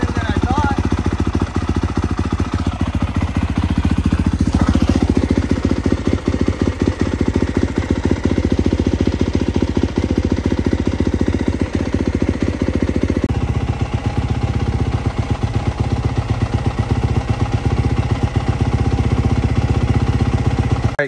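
A 2022 Yamaha YZ250F dirt bike idles loud and close, its steady throbbing engine rumble running unbroken and alone from start to finish, with a slight shift in tone partway through.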